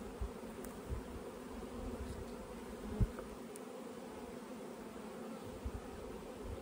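Honey bees buzz softly inside a hive box, a low, steady drone throughout with a few faint knocks and no talk.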